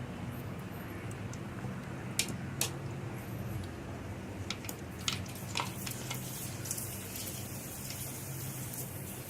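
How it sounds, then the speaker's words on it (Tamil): Rice murukku vadam frying in hot oil gives a steady, close crackling sizzle with a dense bed of fine bubbling and scattered sharper pops, continuous throughout with no talking. "நல்லா பொரிஞ்சு வருது பாருங்க."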